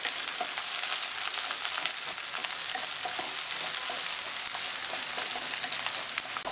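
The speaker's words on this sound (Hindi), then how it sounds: "जो आपने अनियन चॉप किया हुआ है वो डाल देंगे और प्लस शिमला मिर्च एक साथ डाल के इसको अच्छे से थोड़ा सा फ्राई कर लेंगे।" Chopped onion and capsicum frying in butter for pav bhaji give a steady, dense sizzle that stays loud and even throughout, with no voices over it.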